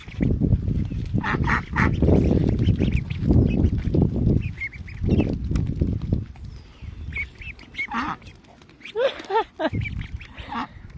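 Ducks and geese quack and honk repeatedly while being fed on a stop in Richmond, Tasmania, with mixed calls close by over steady background noise.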